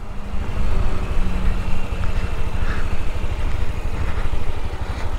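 Honda XRE 300 motorcycle engine running during a ride, a loud continuous low throb with steady rumbling pulses and wind noise, close up and unbroken throughout.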